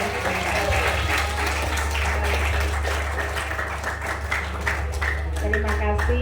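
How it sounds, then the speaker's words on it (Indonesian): Audience clapping in applause at an Islamic school short-course session, a steady dense patter of many hands lasting several seconds under a low background hum. "Beri aplaus untuk Bapak."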